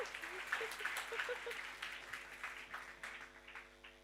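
An audience at a book launch claps steadily, a moderate, fairly distant patter of applause lasting throughout, with faint voices beneath.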